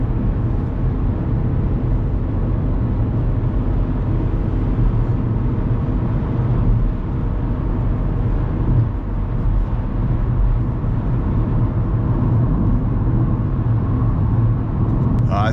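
A 2009 Opel Meriva compact minivan cruises along the road, heard from inside as a steady, loud, low rumble of engine and tyre noise that holds evenly throughout with no break.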